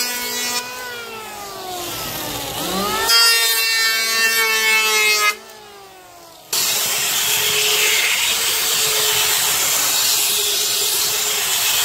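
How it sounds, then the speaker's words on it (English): A hand planer trims wooden planks on a sailing dory build, its loud steady whine rising and falling as the motor runs up and bites, with a short pause before a long continuous pass. "Hand planer first, let's see how it goes."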